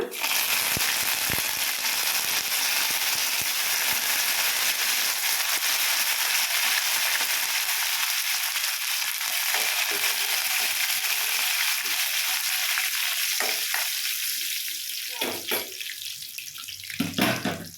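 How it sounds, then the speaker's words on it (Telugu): Cumin seeds and curry leaves frying in hot oil for a sesame chutney tempering, a loud steady sizzling hiss that runs without pause and thins out toward the end as the oil settles. "పచ్చడి తాలింపులో వేసేసుకున్నాము"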